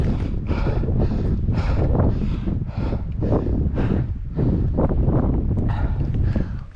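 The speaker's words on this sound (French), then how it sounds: "Avec le vent." Strong wind buffets the microphone on a mountain summit at the Dent d'Oche, loud and continuous with pulsing gusts that roar across the whole clip, no voices.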